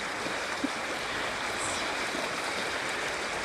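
A river flows in a steady, broad rushing wash of water, close and continuous, with no voices over it.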